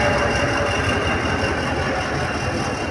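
A two-cab box-body diesel locomotive engine runs at high revs, giving a loud, steady, close rumble with a constant mechanical drone and no breaks throughout.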